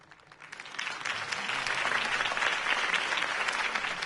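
A crowd in a video game applauds after Harvey Dent's campaign speech, clapping starting softly and building into a full, steady roar of many hands that holds to the end.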